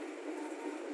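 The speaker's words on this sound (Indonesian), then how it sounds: "Perjalanan kereta api" A local economy-class KRD train between Surabaya and Cepu, Indonesia, rumbles steadily along the tracks, a continuous close roar of wheels and carriage noise with no pauses.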